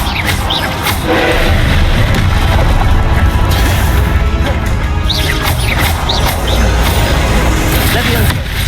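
Explosive Confringo spell blasts in the Hogwarts Legacy video game boom loudly amid a continuous roar of combat noise, with a shouting voice over the dense, crashing din.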